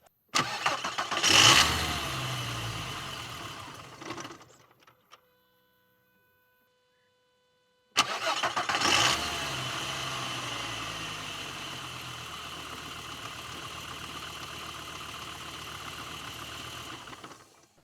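A Volkswagen Golf V5 engine with 353,000 km cranks and catches, then dies to silence; a second start fires up and settles into a steady, slightly rough idle.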